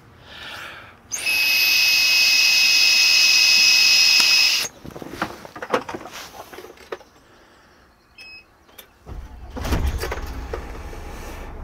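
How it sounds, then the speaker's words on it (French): An Iveco Intouro Euro 5 coach starting up after a breathalyzer check: a long electronic tone from the breath tester, some clicks and handling noises, then the diesel engine catches into a low, steady rumble. "je vais souffler dans l'éthylotest pour démarrer le moteur"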